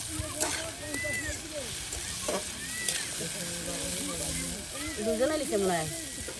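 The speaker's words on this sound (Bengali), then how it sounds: "এই করল্লা তার সাথে আলু কিন্তু সুন্দর করে একদম ভাজা ভাজা হয়ে গেছে" Bitter gourd and potatoes fry in a pan at a riverside village cooking spot, a close, steady sizzle with stirring, while people talk over it throughout.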